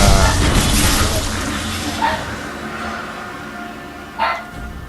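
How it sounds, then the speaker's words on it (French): A dog barking indoors, two or three sharp barks heard fairly distant beneath a loud video game soundtrack, with the last bark most distinct near the end. "Ah, j'ai mon chien qui aboie."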